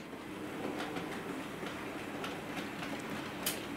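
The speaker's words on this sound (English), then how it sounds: "And here we are going through the streamline points crossover." A small Hornby Class 08 model diesel shunter rolls over Streamline points, giving a steady whirring motor hum with faint, rapid clicks as the wheels cross the rail joints, heard alone.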